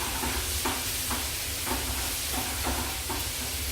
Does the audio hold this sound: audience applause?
no